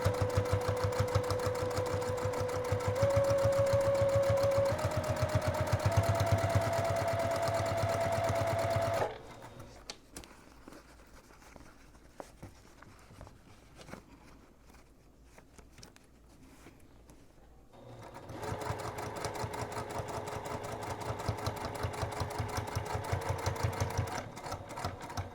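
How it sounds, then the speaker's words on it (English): A sewing machine stitches a custom boxy bag, whirring in fast rhythmic bursts close by, pausing for several seconds mid-way before running steadily again. "Forward stitch, back stitch, and then I can feel that the fabric is together."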